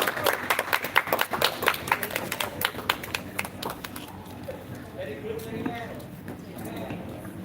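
At an English speech contest, a burst of audience clapping comes in quick, close claps for about four seconds, then fades into quieter room sound with talk.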